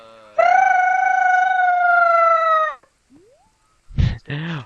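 A person imitates a bird with a loud, sustained whistling cry, then a short rising whistle after a pause, followed by brief vocal noises at the end.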